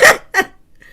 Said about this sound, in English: Burping in the middle of pointing out the beef ravioli.